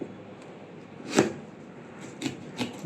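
A knife cuts into a watermelon on a kitchen surface with three soft, faint thuds, one stronger hit followed by two lighter ones, against a quiet background.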